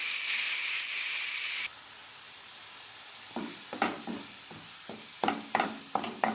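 Onions fry in a pan, opening with a loud bright sizzle that cuts off abruptly, followed by a quieter hiss broken by a series of sharp stirring taps and scrapes.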